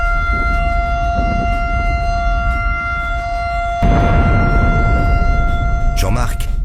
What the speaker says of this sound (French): les sirènes retentissaient de leur son lugubre dans la cité israélienne